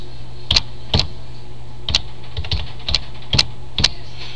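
Keystrokes on a computer keyboard while entering a web address into a browser, about nine separate, fairly sharp clicks in an irregular pace over a low steady hum, with no talk.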